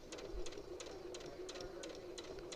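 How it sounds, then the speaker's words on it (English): A sewing machine back-stitches ten stitches while machine binding a quilt, a steady mechanical whir with a quick, rhythmic run of needle strokes close by, no talking. "Now I'm going to back stitch, and I'm going to back stitch 10 stitches."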